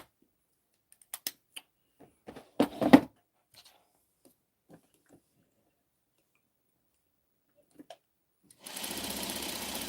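A home sewing machine stitches through a fabric drawstring casing: a few short bursts and clicks early on, then quiet, then a steady, close mechanical whir starting near the end.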